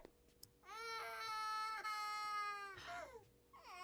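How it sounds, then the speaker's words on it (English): A child cries in the video game Paralives, one sustained wailing sob about three seconds long, loud and close, breaking off into a shorter whimpering cry at the end. "Very realistic child crying noise."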